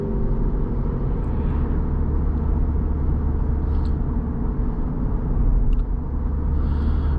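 A 2012 Lexus IS250 AWD, slightly worn with a pull to the left, cruises on the road with light throttle, giving a steady, close engine and road rumble inside the cabin that holds level throughout.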